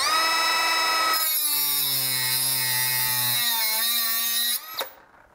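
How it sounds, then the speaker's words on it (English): A Milwaukee cordless 3-inch cut-off tool slices through a quarter-inch bolt with a loud, steady high-pitched whine and grinding that shifts pitch slightly during the cut, then spins down abruptly and stops near the end. "Now I've got a quarter inch bolt here. I'm gonna cut through that."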